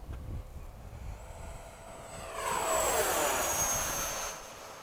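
A Freewing 80mm F-5 electric RC jet passes overhead under cloudy skies at a flying field, its ducted-fan whine swelling loud from about two seconds and holding before easing, over steady background noise.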